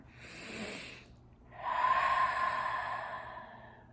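Two deep breaths drawn during a guided new-moon meditation, a softer inhale followed by a longer, fuller exhale of rushing air, close and clear with no talking.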